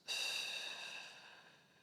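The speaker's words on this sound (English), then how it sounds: "Let's exhale all the air from the lungs." A single steady exhalation of breath during a seated breathwork exercise, close and soft, a long airy whoosh that starts abruptly and slowly fades away over about two seconds, with no talking.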